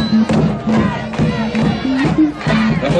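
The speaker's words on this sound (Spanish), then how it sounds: "Fuerte el aplauso para ella, vamos." A carnival crowd at the 2013 carnival queen election shouts and cheers for the newly named queen, loud pulsing waves of voices with possible clapping mixed in.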